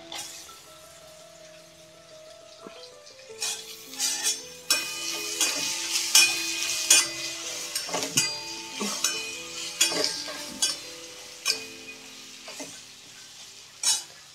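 Chopped onion drops into a hot pan of spiced oil with turmeric for masala bhat, then sizzles steadily as a spoon stirs and clinks against the metal pan in repeated strokes, with music playing underneath.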